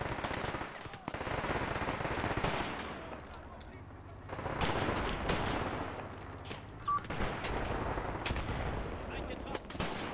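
Battlefield gunfire from the tactics game Graviteam Tactics, with dense bursts of shots and rumbling fire running continuously over a steady wash of combat noise.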